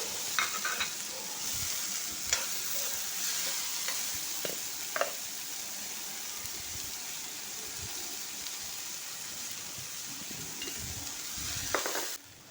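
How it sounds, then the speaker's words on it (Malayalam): Tomato with crushed ginger, garlic and salt frying in a pan for an avocado and capsicum stir-fry, a continuous close sizzle with occasional stirring clicks and scrapes throughout, no voices. "തക്കാളിയും ചേർത്ത് ഒന്നുകൂടി വഴറ്റിയ ശേഷം ഇഞ്ചി വെളുത്തുള്ളി ചതച്ചതും ചേർത്ത് കുറച്ച് ഉപ്പും ചേർത്ത് ഇളക്കി"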